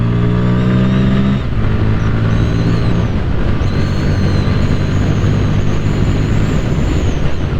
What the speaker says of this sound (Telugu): Let's go first gear. 9500 RPM వరకు మనకి రేవ్ లిఫ్టింగ్ అయితే ఉందన్నమాట.